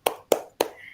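A group claps in three quick, evenly spaced bursts during a parenting session at a preschool, each clap crisp and close with a short decay.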